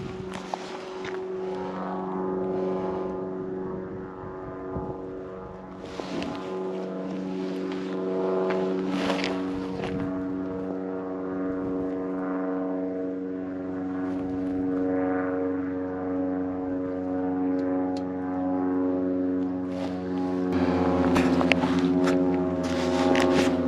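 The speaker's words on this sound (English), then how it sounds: "There's there's an aircraft flying somewhere." A propeller aircraft drones somewhere over a gravel road near Copeville, South Australia, its steady engine hum with strong tonal harmonics running continuously for the whole stretch, fairly loud and sustained, swelling slightly toward the end.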